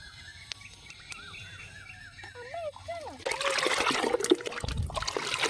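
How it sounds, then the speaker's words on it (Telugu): Fertilizer solution is poured onto rose plants in summer. Birds chirp softly at first, then a close, steady splashing and trickling of liquid takes over. "ఇప్పుడైతే మనము ఈ ఫెర్టిలైజర్ని మొక్కలకి పోసుకుందాం."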